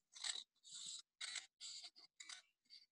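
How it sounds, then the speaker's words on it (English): Scissors snipping through paper along a drawn line, a run of six or seven short crisp cuts in an uneven rhythm, close and fairly quiet with no talking. "All right, I'm going to cut on this line."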